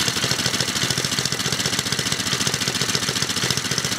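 An engine idles after its scored cylinder was repaired with JB Weld. It runs close and loud with a fast, even pulsing beat and no voices.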